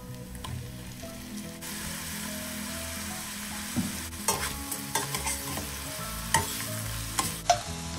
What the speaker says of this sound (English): stir fry them until the onion turns like glassy, like transparent